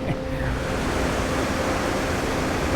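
Steady roar of a waterfall in a Norwegian landscape, a broad, even wash of falling water holding constant and fairly close throughout, with no talk over it.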